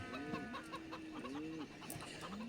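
Chickens in the video game Farming Simulator 17 cluck softly in short, repeated calls over a steady background hum.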